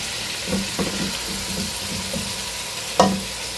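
Onions fry steadily in a pan for chicken pulao, giving a constant close sizzle. Occasional spoon scrapes and stirring knocks break through, with a sharper clank near the end.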